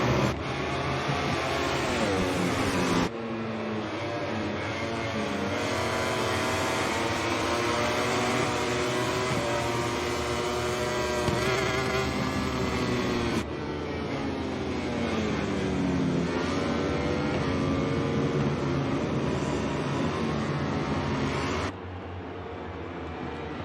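MotoGP racing motorcycles, including a Ducati, accelerating out of a tight left-hander at the Aragon circuit in 2022, a loud, sustained high-pitched engine wail that climbs in pitch, with abrupt cuts between passes.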